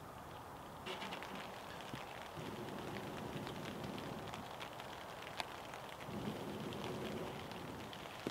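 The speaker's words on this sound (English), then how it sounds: "I quite like the sound of the rain on the tent." Steady rain patters on a tent roof during an overnight forest camp in a hot tent, a dense continuous hiss with scattered sharper drops throughout, fairly close and even in level.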